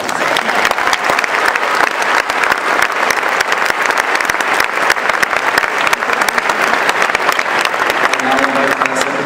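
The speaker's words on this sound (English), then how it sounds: "Now you can give them a round of applause." Dense, sustained applause fills a graduation hall, many hands clapping together loudly and evenly for the band and choir. A brief voice emerges near the end.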